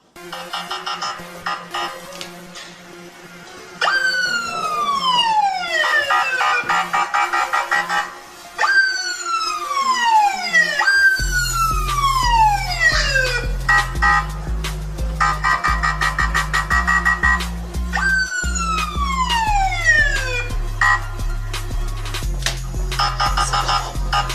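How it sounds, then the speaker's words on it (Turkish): A police siren recording plays through a speaker, repeating rising and falling sweeps, then a deep electronic tone pattern joins in, loud and continuous without talk. "YouTube'dan polis sireni açacağım."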